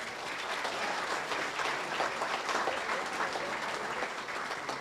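Steady, dense applause fills the room at an annual veterans' dinner, many hands clapping together at a moderate distance without a break.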